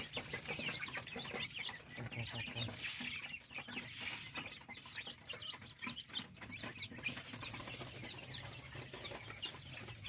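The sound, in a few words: chickens clucking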